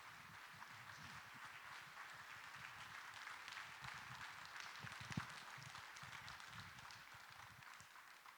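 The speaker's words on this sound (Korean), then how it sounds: "우리 따뜻하게 박수로 목사님께 감사를 표하겠습니다." A church congregation claps warmly for the pastor as he comes forward, a steady, dense patter of many hands that holds evenly for several seconds at a moderate distance.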